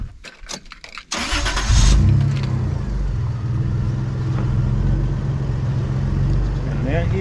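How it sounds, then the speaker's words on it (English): A Toyota Prado 90 Series with custom suspension cranks over and fires up about a second in, then settles into a steady, loud idle close by, with a few faint clicks before the start. "let me give the car a quick start and turn the wheel"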